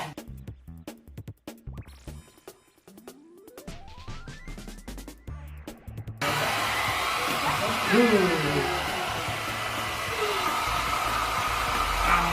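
During a children's physical education hair dryer challenge, a stretch of music and voices gives way to a hair dryer switching on, then a steady, loud blowing roar continues as voices carry on over it.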